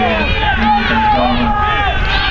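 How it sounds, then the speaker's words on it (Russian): A stadium crowd at a sports match cheers, shouts and claps in support of the home players, a dense, loud wall of voices that stays steady throughout, with shrill higher cries rising above the roar. "Кричите, верещите, хлопайте."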